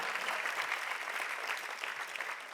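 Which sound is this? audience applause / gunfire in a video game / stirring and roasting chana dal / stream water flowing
audience applause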